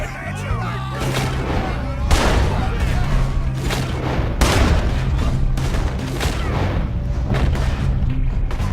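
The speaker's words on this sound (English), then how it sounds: "Shoot that man!" Dense, continuous gunfire and booming blasts from a Red Dead Redemption 2 shootout, loud and sustained with repeated heavy impacts and crackling shots, while voices call out beneath the chaos.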